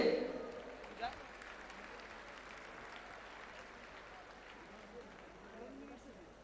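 Faint, distant applause from an audience at an annual bank recognition program, welcoming a genius achiever to the stage; a soft, steady wash of clapping that thins out gradually and stays quiet throughout.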